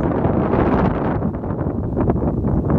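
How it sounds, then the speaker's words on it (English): Steady wind gusts buffet the microphone along a hiking trail at High Point State Park in New Jersey, a continuous broadband roar with rustling swells and no speech. "And it is windy, so, as you can hear."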